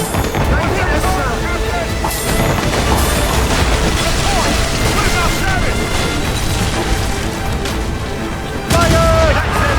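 Naval cannon fire rumbles through a ship battle in the video game Assassin's Creed Rogue, a dense, continuous barrage of booms and blasts layered with shouting crew voices, loud and busy throughout with a brief lull near the end.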